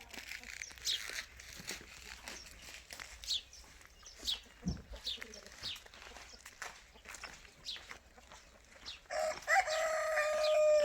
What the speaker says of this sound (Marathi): आपले पक्षी जे आहेत ना काय ते पक्षी बघा कशी हिंडायला लागले